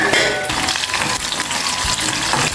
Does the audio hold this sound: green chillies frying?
yes